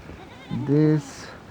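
A male goat held for cashmere combing gives a single loud, wavering bleat lasting about half a second, close to the microphone, with no talk in the moment.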